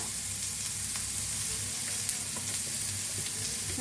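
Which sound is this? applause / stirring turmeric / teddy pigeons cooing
stirring turmeric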